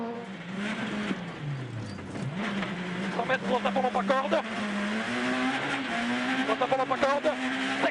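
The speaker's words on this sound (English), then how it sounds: "Francois Delacour screaming the 207 S2000 down the road" A Peugeot 207 S2000 rally car engine screams and revs hard as it races along the road at the 2013 Sibiu Rally in Romania, with pitch rising and falling through gear changes and faint tire noise.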